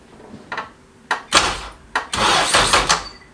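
A Honda KRZ motorcycle being bump started, with several loud bursts and thumps, the last stretch a longer sustained roar, heard close with no talking.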